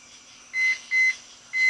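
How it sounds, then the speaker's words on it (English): An alarm beeps three times in quick succession, steady mid-high tones at moderate loudness near a Weber kettle grill set up for slow-and-sear ribs, with no talking. "Forgive the alarm."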